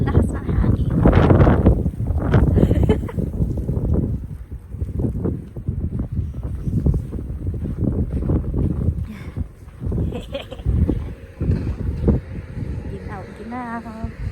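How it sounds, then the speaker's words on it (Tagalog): Strong wind in a Toronto snow storm buffets the microphone in heavy, gusting rumbles, loudest at the start, easing briefly midway, then returning in uneven bursts. "Kasi ang lakas ng hangin."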